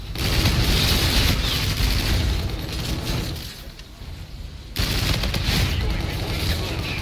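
Automatic gunfire from a Type 2 weapon in Call of Duty: Infinite Warfare, dense and loud bursts that run nearly continuously, briefly dip in volume, then surge back in.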